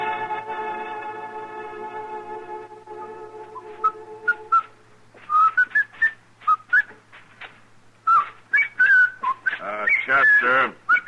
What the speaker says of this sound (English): if you insist on whistling, would you mind doing it outside?